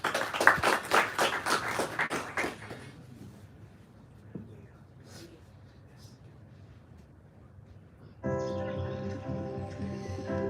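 Audience applause at a startup awards pitch event, brisk clapping for the first few seconds that fades out, then a quieter stretch with scattered small sounds before a tonal music-like passage.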